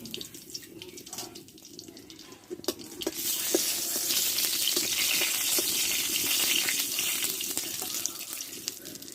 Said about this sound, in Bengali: এবার দেবো দুটো শুকনো লঙ্কা আর একটা তেজপাতা আর দুটো লবঙ্গ আর দুটো এলাচ দিয়ে দেবো